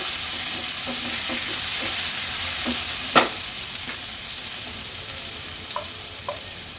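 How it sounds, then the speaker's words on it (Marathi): Crushed ginger, garlic and chili sautéing in oil for an Agri-Koli style pink perch curry: steady broadband sizzle with a few spoon scrapes and clinks, one sharper knock near the middle. "आलं, लसूण, मिरची, कोथिंबीरचा क्रश तेलावर परतून झालं की"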